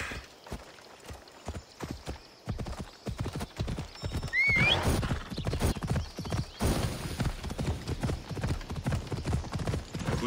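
Horse hooves clip-clop in a steady galloping rhythm in Assassin's Creed Odyssey, close and fairly loud, with a sharp neigh partway through and game ambience underneath.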